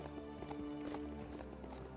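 Steady clip-clop of a skeleton robot horse's hooves trotting at a brisk even rhythm in the video game Last Worldeater, over a dense, layered backdrop of game music and ambient noise.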